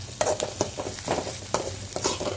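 Something sautéing in oil in a pan until golden gives a close, steady sizzle, broken by repeated rhythmic scrapes and stirring strokes of a spoon.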